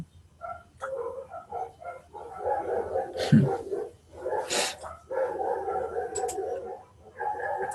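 A dog barks in repeated bursts, some rapid and yippy, close and fairly loud, with brief pauses between volleys and no talking.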